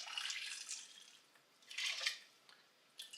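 Two cups of hot water poured into a pan of kofta (meatball) curry, with splashy bursts of liquid rising and falling in close, moderately loud spurts and short pauses between, no talking.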